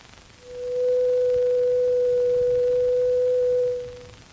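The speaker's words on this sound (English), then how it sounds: "This simple 500 cycle tone can be represented mathematically by a sine wave." A plain 500-cycle sine wave tone holds one steady pitch for about three seconds, fading in and out smoothly, loud and alone.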